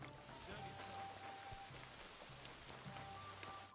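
Steady rain falls in the medieval open-world game Kingdom Come Deliverance II, a dense, even hiss that holds for the full length with faint low game ambience beneath and no voices.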